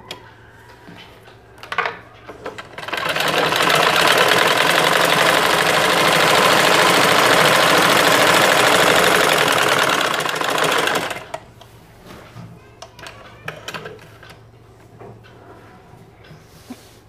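A sewing machine stitches fabric strips for a homemade doormat, a loud, steady whirring run of about eight seconds, framed by quieter handling clatter before and after.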